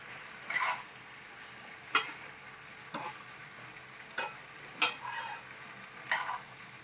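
Gourd curry cooking in a pan: a faint background hiss broken by six sharp, spaced taps and scrapes of a utensil against the pan, each one distinct, with no talk.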